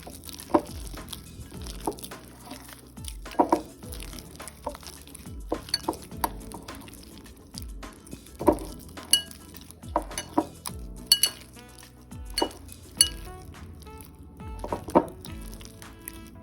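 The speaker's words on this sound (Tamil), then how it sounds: "இதை நல்லா மிக்ஸ் பண்ணிக்கோங்க. தண்ணி மிக்ஸ் பண்ண வேண்டாம்." Banana paste batter being stirred in a bowl, with a spoon clinking and scraping against the sides in uneven bursts, close and fairly soft, with no talking.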